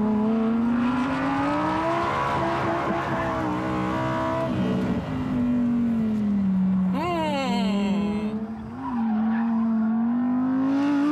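Lamborghini Huracán STO in third gear at full throttle, engine roaring loud and steady, with a brief sharp tire squeal as the car slides sideways mid-run.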